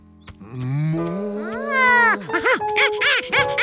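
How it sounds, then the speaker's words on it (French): A long, drawn-out moo rises and falls in pitch, followed by a few shorter bellowing calls close by. "Tu veux qu'on suive la vache?"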